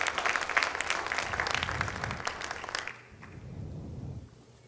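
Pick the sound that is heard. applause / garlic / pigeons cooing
applause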